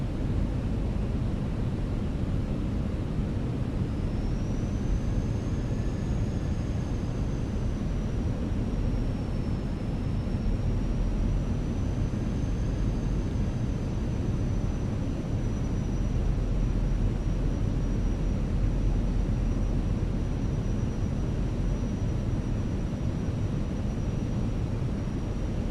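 A Fenix A320 airliner in Microsoft Flight Simulator 2024 drones steadily through a bumpy approach, its broad, even engine and wind roar running the whole time beneath a thin, high whine.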